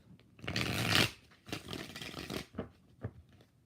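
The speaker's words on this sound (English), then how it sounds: "4 shuffles for Thalia." Tarot cards being shuffled in several quick riffling bursts, a long rustling run followed by shorter snaps and flutters, close and fairly quiet.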